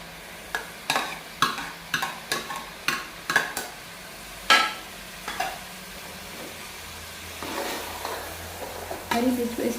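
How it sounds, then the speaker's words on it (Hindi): Spoon stirring green chilies into a moringa flower and meat curry, giving a run of close scraping strokes in a steady rhythm, then a soft sizzle that rises toward the end with no talking. "अब हम इसमें ऐड करेंगे हरी मिर्च,"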